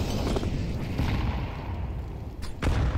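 A grenade explodes in the Counter-Strike 2 video game: a dull, rumbling blast within steady low gameplay noise, with a sharper burst near the end.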